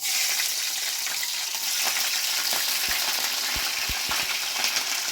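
Chillies fry in hot oil in a kadai with a loud, dense, unbroken sizzle close by, punctuated by a few soft low knocks.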